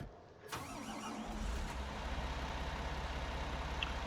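A tractor engine cranks and catches in a farming video game, settling into a steady, throbbing mid-pitched idle that continues on its own.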